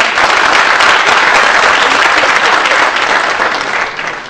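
Dense, loud audience applause fills a hall at a public address in Gaziantep, steady throughout and fading slightly at the end, with no talking.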